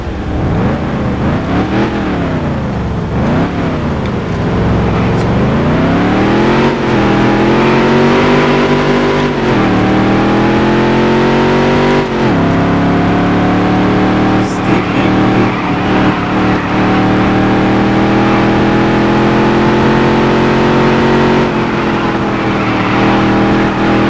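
Racing car engine in the Dirt to Daytona video game revving loud and close throughout, pitch sweeping up and down through gear changes before settling into a steady high drone.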